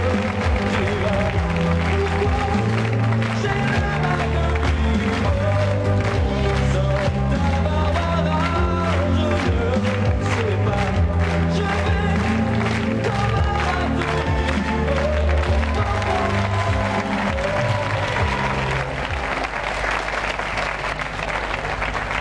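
A TV studio audience claps at a French variety show, sustained dense applause that runs throughout and eases slightly toward the end, with faint speech mixed in.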